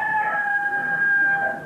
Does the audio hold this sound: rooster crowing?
yes